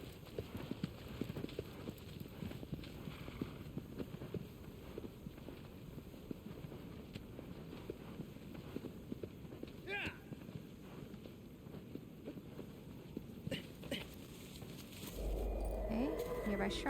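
Hooves from a horse in the video game Shadow of the Colossus gallop in a fast, continuous rhythm, mid-level in loudness, with a whoosh and a rising rumble near the end.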